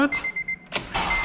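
Brief electronic chirps from a remote starter give way to a 2009 Acura RDX engine cranking and catching, all over about a second, close by.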